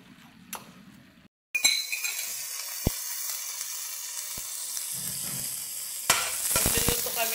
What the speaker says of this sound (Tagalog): Magluluto kami ng bihon gisado.